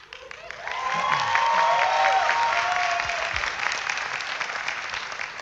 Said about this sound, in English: We should all applaud.